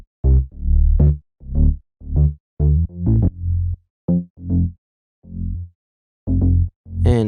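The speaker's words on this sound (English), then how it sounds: "the bass is just this Arturia Prophet preset" A Prophet-style synth bass preset with chorus on its top end plays a choppy line of short, punchy, harmonic-rich notes with gaps between phrases, loud and close, no voices.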